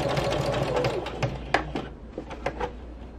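A sewing machine stitches a fabric postcard with rapid, steady mechanical chatter and a few sharper ticks, running close and fairly loud without any talk.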